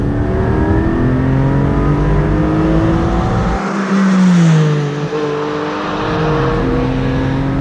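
A 2020 Porsche 718 Boxster Spyder engine accelerates hard and loud from inside the car, its rising tones climbing through the gears with a brief dip at a shift before pulling on steadily.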